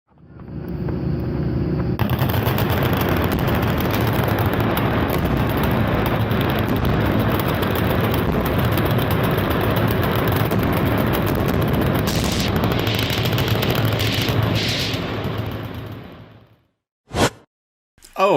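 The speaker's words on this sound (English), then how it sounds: "That looks to me like gunfire at explosives of some sort." Gunfire and explosions at a Kentucky gun range roar as a dense, continuous barrage for about fifteen seconds, loud and booming, then cut off, followed by a couple of sharp isolated bangs.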